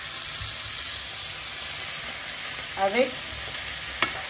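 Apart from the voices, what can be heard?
onions frying in a pan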